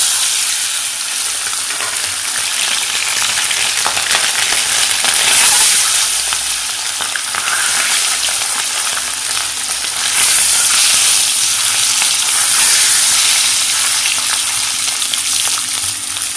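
Eggs drop into hot oil in a pan for a Bengali egg dish and fry with a loud, steady hiss and crackle, the sizzle swelling noticeably a couple of times as the eggs settle and cook.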